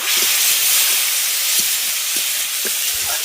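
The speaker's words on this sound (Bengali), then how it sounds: "এবার আদাটাকে একটু ভেজে নেবো যাতে আদার কাঁচা গন্ধটা চলে যায়" Ginger paste and turmeric powder frying in hot oil give a steady, loud hiss and sizzle with a few faint pops, continuing unbroken with no talking.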